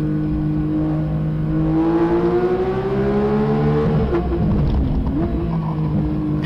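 A Porsche 992 GT3 accelerates hard along a bumpy rally stage, its engine roaring loud and close with rising revs that climb through the gears and briefly dip at a shift, without any talking.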